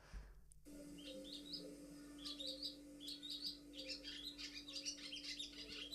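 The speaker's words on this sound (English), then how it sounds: "And Adam, just want to know what a swallow sounds like?" A swallow chatters in quick, frantic bursts of high chirps and twitters, fairly clear and continuous over a faint steady hum.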